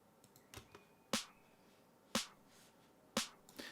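Layered snare hits blended with a bright, shaker-like burst of white noise, highs only with the lows cut by EQ, from a dub techno beat in Ableton; four sharp, airy hits with softer ticks between, fairly quiet and dry.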